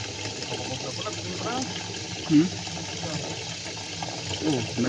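Water streams steadily from a mountain water source, a continuous rushing flow with a close, even level and a few brief splashes, while people talk over it.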